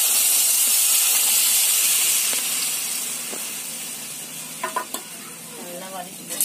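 Ground muskmelon pulp being sautéed and stirred in a pan for halwa gives a steady sizzling hiss throughout, with a few scraping stirs near the end and a brief spoken word.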